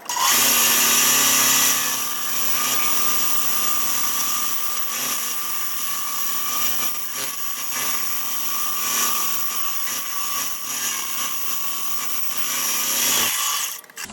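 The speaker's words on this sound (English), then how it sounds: "But let's go ahead and cut this out." A bandsaw cuts out a bandsaw box from a solid wood block, a loud, steady high-pitched whine that holds for about thirteen seconds with slight wavering as the blade follows the curve, then stops abruptly.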